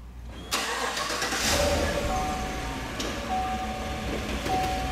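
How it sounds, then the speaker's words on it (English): A tow vehicle's engine starts near a travel trailer and settles into a steady mid-range idle, continuing close and fairly loud after the initial crank. "we can go ahead and move the tow vehicle to a safe distance."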